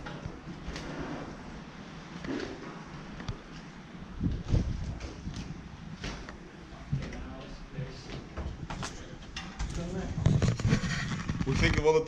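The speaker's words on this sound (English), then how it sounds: "What do you think of all the doors slamming in here?" Doors slam repeatedly in strong wind gusting through an abandoned UK school, irregular sharp bangs near and far over a constant windy rush, with voices talking throughout.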